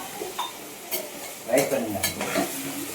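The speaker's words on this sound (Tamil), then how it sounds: "வெங்காயம் நல்லா வதங்கிட்டு இருக்காங்க" Onions sautéing in a pan while being stirred, giving a close, steady low sizzle broken by several sharp scraping clatters of a utensil against the pan.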